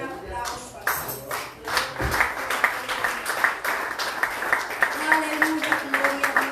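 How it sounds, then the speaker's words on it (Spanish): A church congregation applauds in rhythmic, steady clapping that carries on throughout, while voices and other sounds are heard beneath it. "Denle un aplauso al Señor"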